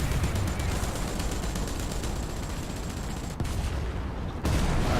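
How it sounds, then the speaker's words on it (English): An artillery strike called in during War Thunder tank combat brings a dense, loud, continuous barrage of booming blasts and rattling gunfire, with brief dips near the end. "Gonna call an artillery."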